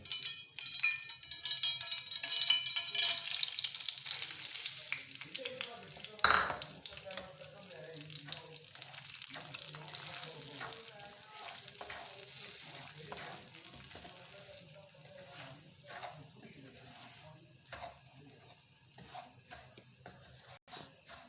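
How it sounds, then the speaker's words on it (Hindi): Semolina drops into hot ghee with a soft thud, then fries with a gentle sizzle while a spoon stirs and scrapes the pan, the sound fading slightly toward the end. "घी हमारा गर्म हो चुका है। अब हम इसमें सबसे पहले सूजी शामिल कर देंगे।"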